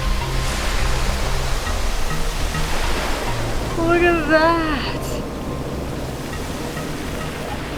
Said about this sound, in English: This is all soundtracked by the roaring drumbeat of waves pounding the reef.